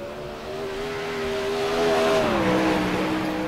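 Race car engine in iRacing, a World of Outlaws car on the Charlotte track at about 100 mph riding the rim against the wall, droning steadily with a rising then slightly falling pitch, loud and continuous with no talk.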